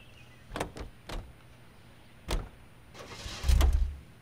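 Getting into a car in the L.A. Noire video game, 1940s Los Angeles: several brief door and handle thumps spaced out, then a louder low rumble of the engine starting and idling near the end, with no talk.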